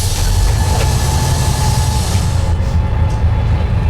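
Sydney monorail train running through the city near Chinatown, a steady loud rolling rumble with a faint whine, continuous and close throughout with no talking.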